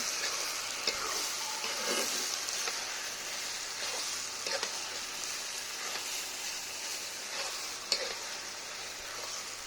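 Jackfruit curry fries in hot oil with a steady, close sizzle while a spoon stirs through it, leaving a few brief scrapes and clicks against the pan; nobody speaks.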